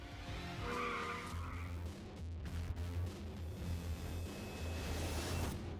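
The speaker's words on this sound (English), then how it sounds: "he's off a skitter of wheel spin" A BMW M2 spinning its wheels on a track, a squealing, skittering tire noise over a low engine drone, fairly steady throughout and heard without talk.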